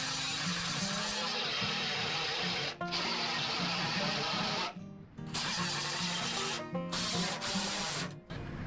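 Steady, harsh whine of a grinder working over welds on a steel fender of a 1981 Monte Carlo, running continuously with a few brief pauses and pitch dips as the tool is lifted.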